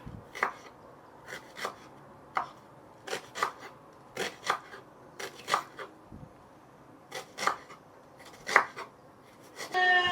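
Carrot rubbed against a coarse grater in a kitchen, a steady series of rasping strokes, about a dozen in ten seconds, close up and alone.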